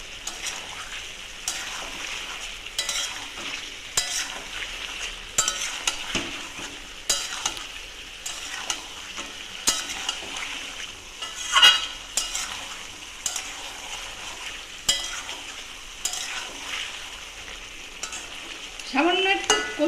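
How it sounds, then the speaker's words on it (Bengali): Fish head and bottle gourd stir-fry together in a pan, with a continuous sizzle under repeated rhythmic stirring and scraping strokes and a few clinks of the utensil against the metal, close and with no voices. "এবার সব একসঙ্গে কষিয়ে নেব।"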